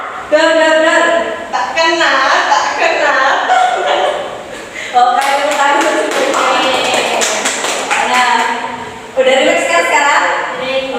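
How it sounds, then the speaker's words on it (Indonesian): Classroom students applauding, a dense burst of hand clapping mixed with voices and laughter, loud and close, swelling again in several waves. "Oke, tepuk tangan."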